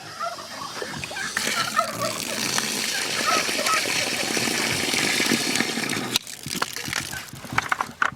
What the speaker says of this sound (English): that's gonna start with getting some water on the pig food